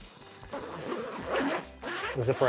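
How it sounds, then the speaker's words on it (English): A zipper on a Disney over-the-shoulder bag is pulled in a few close, scratchy runs, some short and one longer, beneath a person talking. "It's got this nice zip around"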